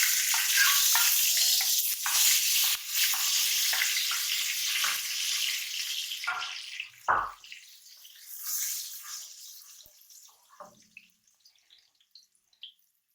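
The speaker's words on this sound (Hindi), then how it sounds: "ये तो प्याज ब्राउन हो गए हैं। अब इसके अंदर ये चीज़ें डाल देंगे।" Browned onions for chicken biryani frying and being stirred in a pan, a loud close sizzle with clatters of the spoon that gradually fades to scattered faint crackles.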